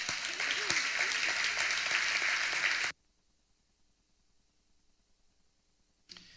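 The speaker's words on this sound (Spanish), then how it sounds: "Dale un aplauso a Dios por eso." A church congregation breaks into loud, dense applause during a sermon. The clapping runs for about three seconds, cuts off abruptly into near silence, then briefly resumes at the end.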